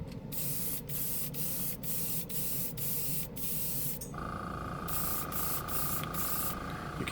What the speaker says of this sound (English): You can hear the compressor kicking in.